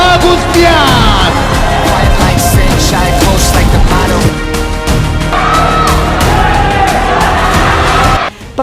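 A loud, massive crowd roars and cheers at a boxing fight between Rudy "the Golden Boy" Agustian and Pariss, a dense sustained wall of voices with whoops and yells, dropping away abruptly near the end.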